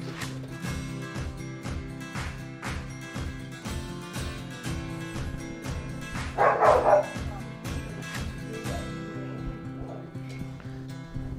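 Several dogs barking near a group of people, short repeated barks over a steady musical drone, with a louder burst of barking midway.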